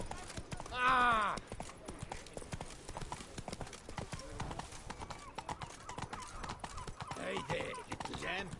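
Rapid, rhythmic clip-clop hoofbeats of the horse Roach galloping in The Witcher 3, steady throughout with a whinny near the start and a voice speaking over it.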